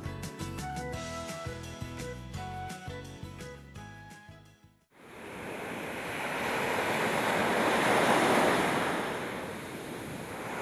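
Ocean surf breaking on the beach along the Mota Ain coast in Belu, rising into a loud, steady wash of waves after a few seconds of music that ends abruptly midway.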